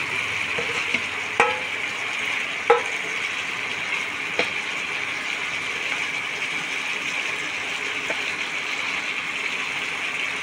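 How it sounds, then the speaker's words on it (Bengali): Kapila fish frying in a pan with a steady, even sizzle and a few sharp clinks of a utensil against the pan. "এবার মাছগুলো দিয়ে দিচ্ছি।"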